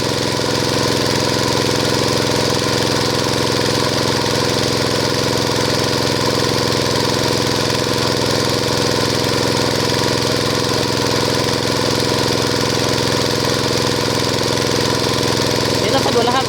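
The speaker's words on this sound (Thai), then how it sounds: "รอฟังเสียงของเครื่องยนต์ว่าสะดุดหรือเปล่านะครับ" A small gas-powered water pump engine runs steadily and loudly the whole time, a continuous mid-pitched drone with a faint vibration.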